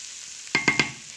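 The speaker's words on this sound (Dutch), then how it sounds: "En dan alles even droog bakken, want de bloem die slorpt het vocht op dat in mijn pan zit." Flour-dusted wild boar ragout meat dry-frying in a pan, heard as three quick, close sizzling bursts over a quiet background.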